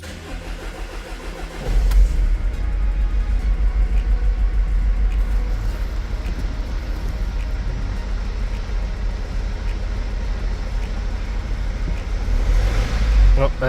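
A Mercedes Sprinter van engine cranks and fires after a quiet idle stretch, then runs loud and rumbling with revs swelling toward the end, while people talk faintly nearby after an injector replacement.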